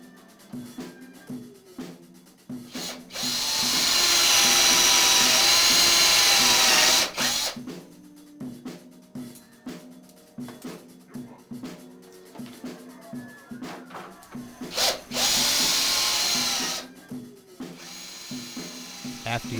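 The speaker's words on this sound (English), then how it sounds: "With your power drill and a 1/4-inch bit, carefully drill out the 4 holes" A power drill with a 1/4-inch bit whines at high speed in two bursts as it bores through a wooden board, with quieter clicks and handling noise between.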